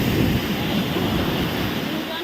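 Sea surf rolls in at a beach near Puri, a steady, loud, wind-blown roar of breaking waves that fills the whole clip without a break.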